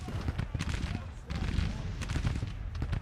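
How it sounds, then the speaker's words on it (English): Cannon and rifle gunfire from a Grand Tactician Civil War battle in 1863, a dense, continuous rumble of distant artillery and scattered musket shots rolling on throughout. "We got cannon up here that are opening up now."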